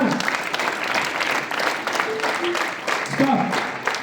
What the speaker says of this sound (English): Make hands up, everyone. Clap. Louder. All of you.